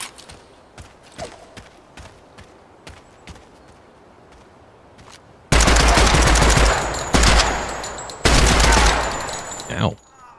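Rifle gunfire in a shooter video game, 5.56 and 30-06 rounds, starts as scattered light sharp cracks and then turns into loud, dense bursts of rapid automatic fire with brief pauses between them.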